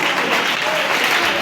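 Audience applause at a church Sunday-school theatre play, a steady dense patter of many hands clapping close by for the full stretch, with no pauses.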